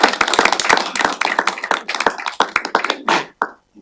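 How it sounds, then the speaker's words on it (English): A small group claps for a retiring county team member at a board meeting, quick uneven hand claps close to the microphone that thin out and stop after a few seconds. "join me in giving her a round of applause"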